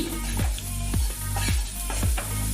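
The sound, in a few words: frying cashews for cauliflower payesh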